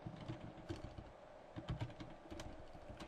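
Quiet, irregular clicks of typing on a computer keyboard, in short uneven bursts of keystrokes with no voice over them.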